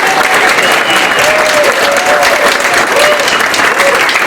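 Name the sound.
audience applause for Emily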